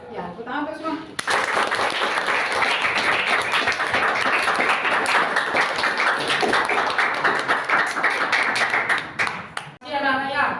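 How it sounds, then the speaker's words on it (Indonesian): Classroom students applauding together, a dense, loud burst of clapping lasting most of the stretch, with a voice briefly heard at the start and end. "Ya, tepuk tangan untuk semua."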